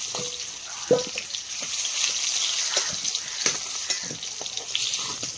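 Potatoes fry lightly in a pan for a duck curry, with a soft steady sizzle underneath and a few clinks of stirring, faint and close.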